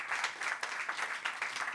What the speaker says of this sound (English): I think it deserves a great applause.